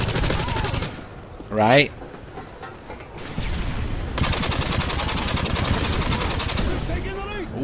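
Rapid automatic gunfire from dual-wielded PP2000 and UMP45 submachine guns in a team deathmatch video game, sustained bursts filling most of the clip with a brief sharp spike early on, while someone talks over it.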